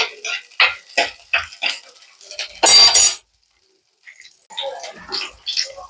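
Ginger and green chili are stirred in a frying pan, with a series of rhythmic scraping and clinking spatula strokes near the mic, one louder rasping scrape, then a short pause before softer stirring resumes.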